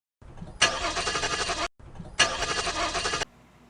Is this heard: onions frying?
no